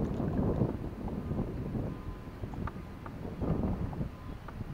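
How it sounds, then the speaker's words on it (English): Wind gusts over a lake while someone fishes from a boat for crappie, making a steady low rumble and buffeting on the microphone throughout. "Wind done picked up a little bit, but that's all right."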